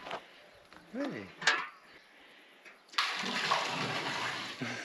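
Water drawn from a well in Croatia's Dinara area: a brief quiet stretch with voices and knocks, then a sudden loud steady rush of pouring, splashing water that lasts to the end.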